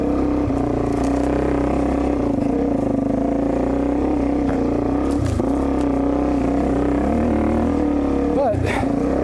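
A motorcycle climbs a trail hill with a constant, loud engine drone that rises and falls slightly, while a rider talks throughout over the engine noise.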